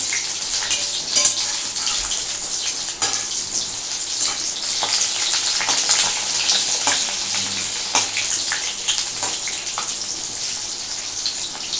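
Cornflake-coated chicken pakoras fry in hot oil over a lowered gas flame, giving a continuous close-up sizzle with dense, crackling spatter and occasional sharper pops, with no talking.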